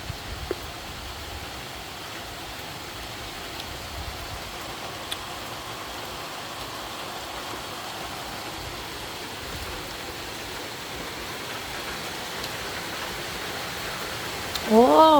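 Heavy rain falling in a steady, even hiss that fills the whole stretch, with a brief voice near the end.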